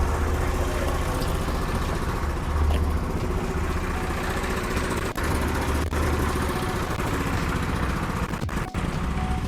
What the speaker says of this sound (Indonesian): di sini lagi ada suara mesin ngaduk semen